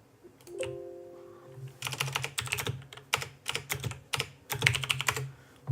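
Keys clatter on a computer keyboard during Commodore 64 programming work, a soft tone first, then bursts of quick close typing in uneven clusters, fairly quiet with no talk.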